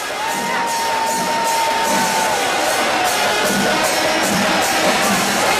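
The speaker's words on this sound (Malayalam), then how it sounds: "ജനലക്ഷങ്ങളുടെ ആർപ്പുവിളി ഒരു ഭാഗത്തുണ്ട്." A vast festival crowd of lakhs cheers and shouts continuously during Kudamattam, the umbrella-changing spectacle at Thrissur Pooram, a dense roar of voices with a thin sustained whistle-like tone drifting above it.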